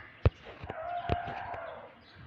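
Roosters kept on a rooftop in hot weather, heard as a sharp sound followed by a sustained crowing call, fairly close, with a few other faint bird sounds around and no talk.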